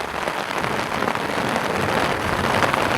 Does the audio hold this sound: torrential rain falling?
yes